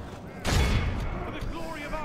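Troops fire a volley in the DCI Last Alliance game during a goblin assault, one sudden booming burst of massed gunfire after a quiet moment, fading into a rumbling tail.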